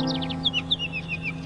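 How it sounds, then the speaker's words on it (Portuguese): Birds sing outdoors in a quick run of bright, descending chirps and trills, fairly close and clear, over a faint low hum. "ouvindo o canto dos pássaros, seguindo em frente."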